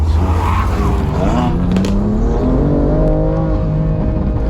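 A tuned BMW M2 Competition with Pure Turbos upgrades making about 700 wheel horsepower accelerates hard, the engine note climbing steadily through the revs, loud and close throughout.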